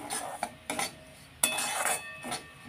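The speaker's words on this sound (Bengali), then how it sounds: "সুজি কিন্তু খুব বেশি ভাজবো না, খুব হালকাই ভেজে নেব" Semolina (suji) is lightly roasted with a little poppy seed in a pan while a spoon stirs it. Close scraping strokes and metallic clinks come in irregular bursts over a faint background.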